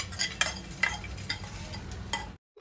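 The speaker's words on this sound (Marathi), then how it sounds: "हे आपल्या इथं मसाला चांगला भाजून झाला आहे." Masala dry-roasted with a drop of oil in a pressure cooker pan for Marathwada-style chicken curry, a soft sizzle under several distinct scraping stirs that stop abruptly.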